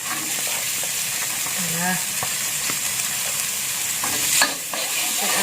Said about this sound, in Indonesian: saya aduk rata sampai bawang bombaynya itu layu ya